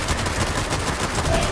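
Video game gunfire in a mutant-sample recovery mission, a dense, loud crackle of rapid shots filling the brief moment with no voices over it.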